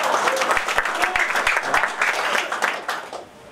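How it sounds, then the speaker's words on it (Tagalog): Audience on a Filipino television variety show applauding, a full crowd clapping steadily before tapering off slightly at the end, with some faint voices mixed underneath. "Palakpakan, palakpak."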